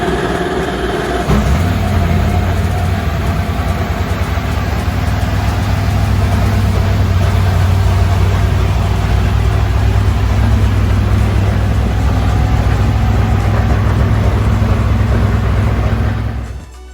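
A Lexus race car engine warming up in the paddock at the 12 Hours of Sebring starts and then holds a loud, steady low idle close by for a long stretch before cutting off at the end.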